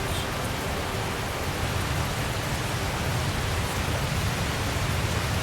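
Steady rain in the video game Tales of Zestiria, a constant even hiss of falling water near a river bridge, with no talk over it.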